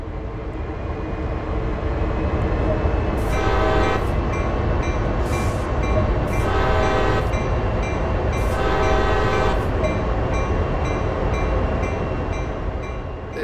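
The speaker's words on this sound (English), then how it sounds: "Set the locomotive up and we'll get going when you're ready." A CSX heavy-haul freight locomotive in Train Sim World rumbles with a loud, steady engine drone while its horn sounds four times: two long blasts, then a short one and a long one.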